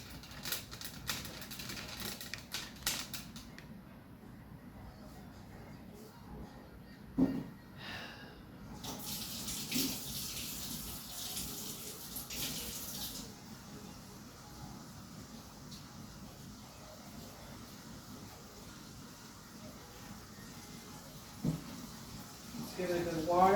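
Water from a sink tap runs onto a houseplant to soak it before draining, a faint splashing stream that starts and stops several times, with soft handling noises and quiet talk.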